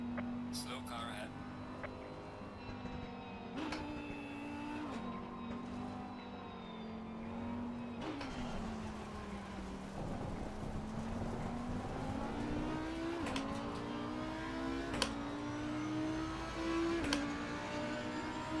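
An Audi race car in the Assetto Corsa Competizione racing game, the engine droning and rising and falling in pitch through gear changes, with a few sharp shifts, heard quietly beneath someone talking.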